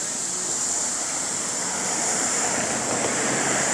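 Outdoor water sprinklers spray with a steady, loud, broadband hiss that holds constant throughout, like rushing surf, with no voices over it.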